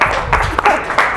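A brief, sparse patter of polite clapping from a small group comes in a few scattered claps at a hockey event, with voices murmuring under it.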